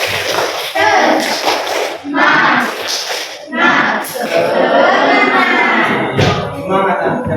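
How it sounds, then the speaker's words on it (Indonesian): An Indonesian secondary school class performs a rhythmic spirit clap, loud bursts of group clapping in patterned beats alternating with children's and a teacher's voices chanting along. "Tepuk semangat."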